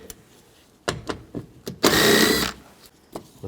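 A 10mm socket on a ratchet works perimeter bolts out of a 2004-08 Nissan Maxima driver's door, heard as a few scattered sharp clicks and knocks, then a short, loud whirring burst of about half a second, close by.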